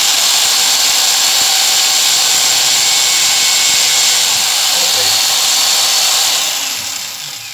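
An electric drill mounted on a lathe runs steadily as it bores holes, a loud continuous high whine that holds nearly level before tapering off near the end, with no talk over it.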